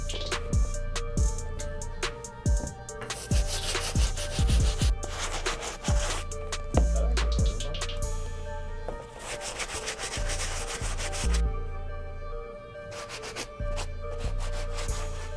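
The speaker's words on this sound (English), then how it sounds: "grab our medium all-purpose brush to clean up the uppers" A medium all-purpose brush scrubs the uppers of an adidas Yeezy Calabasas Powerphase Grey shoe in repeated short rubbing strokes, close and fairly quiet, with brief pauses between bursts.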